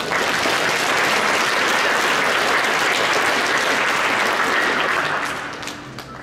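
Sustained audience clapping for student award winners at a science fair ceremony, loud and even for several seconds before tapering off near the end.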